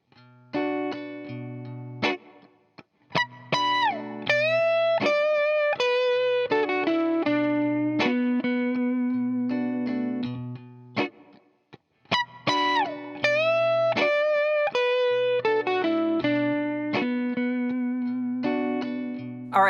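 Electric guitar plays a blues lick, clean with light effects: bent and vibrato notes in phrases, repeated twice with short pauses, close and alone.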